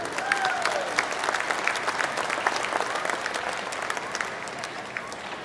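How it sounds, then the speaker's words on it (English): Steady, dense applause from the audience at a chore team competition finals, honoring the volunteers; even, sustained clapping with a whistle or two rising briefly over it early on. "warm round of applause for all the volunteers and people here"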